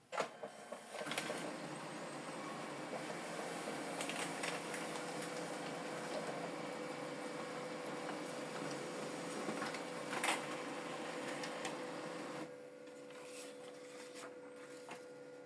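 A Brother MFC-L2800 laser printer whirs and clatters steadily as it feeds pages through its automatic document feeder and copies them, with faint clicks, then the mechanical noise drops to a quieter hum.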